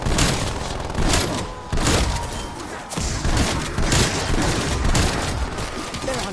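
Dense, continuous gunfire in Call of Duty Zombies, with overlapping shots and booming thumps pounding without pause against a horde of zombies.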